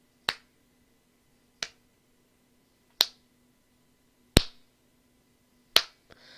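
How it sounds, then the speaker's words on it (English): Five sharp, isolated hand claps at a slow, steady pace, each about a second and a half apart, loud and close in an otherwise quiet room. "here's a slow clap for you."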